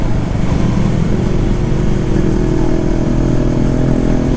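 A motorcycle ridden flat out in a street race between an R15M, a Duke 250 and a KTM RC 200, its engine droning loud and steady close by, with no talk.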